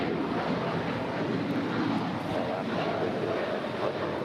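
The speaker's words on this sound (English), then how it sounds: "This is Alaska Airlines Flight 813 departing to Kahului. It's a 15-year-old 737-800." A 15-year-old Alaska Airlines Boeing 737-800 departs, its jet engines producing a continuous, loud, broadband roar with no break across the few seconds.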